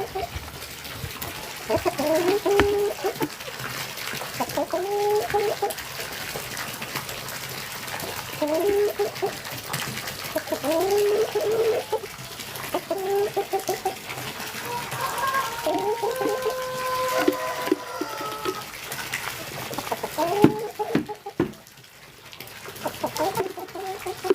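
Chickens on a small home farm clucking in repeated short bursts, near and fairly clear, over a steady background hiss with some faint voices and other noises.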